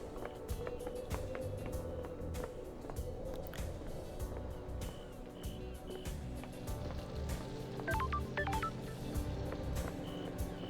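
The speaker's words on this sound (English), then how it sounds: "that sound almost reminds me of like a phone call or something" A ringing phone-call chime inside the video game Paradise Killer, a few short tonal beeps near the end over layered ambient game music and hum.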